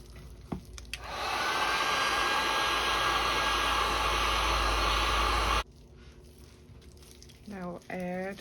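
A heat tool warms a three-piece mold, blowing a steady, loud airy roar for about four seconds before cutting off, with a voice speaking briefly afterward.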